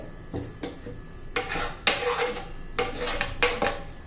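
Bitter gourds being scraped with a knife to remove the rough outer skin, giving close, rasping scrapes in short bursts of varying length, several in quick succession with brief pauses between.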